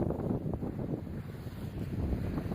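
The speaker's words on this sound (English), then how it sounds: "I know it's very windy." Strong wind on a seafront buffets the microphone in a continuous low, gusty rumble, with a faint wash of surf underneath.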